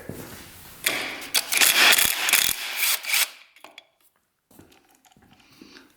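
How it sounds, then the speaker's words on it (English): Ratchet clicking rapidly as it turns the crank of a freshly rebuilt dirt bike engine, loud and close in two bursts of fast ratcheting, then a pause and quieter scattered mechanical clicks. "on the other side, we can actually rotate the crank over with it"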